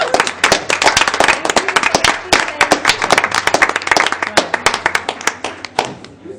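Applause from the room at a District 625 school board meeting, a crisp patter of individual hand claps, close and loud, trailing off at the end.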